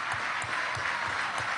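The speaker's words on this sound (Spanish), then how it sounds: "Un aplauso para Manuel" Applause from an audience at a Venezuelan government event at the Orinoco oil belt, a steady, fairly faint clapping wash with some individual claps standing out, no talk over it.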